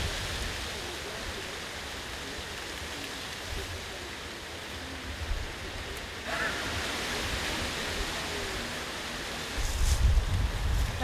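Wind blowing through a cherry orchard near Céret, a steady broadband rush of moving air and leaves, moderately faint, swelling louder in the last second.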